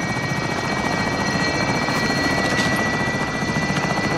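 Helicopter in Call of Duty: Modern Warfare, a loud, steady rotor and engine drone with rapid blade chop, continuous and close throughout.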